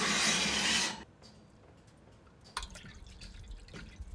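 Water poured into a baking pan holding eggs, set in an oven, gives a loud broad rushing pour for about a second, then quiet clinks and drips follow.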